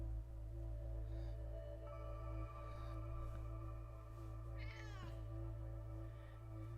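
A cat gives a faint, brief meow against a constant low electrical hum near a computer setup.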